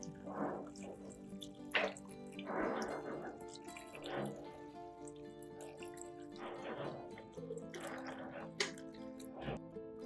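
Water is poured over broccoli in a bowl, heard as several short splashing, dripping bursts spaced a second or two apart over a steady low hum, fairly faint.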